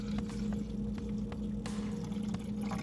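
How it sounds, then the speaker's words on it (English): Distilled water pours from a container into the bottom reservoir of a Mr. Coffee iced coffee maker, making a continuous close splashing trickle over a low hum, with small shifts as the stream changes. "I'm gonna pour it into the bottom reservoir"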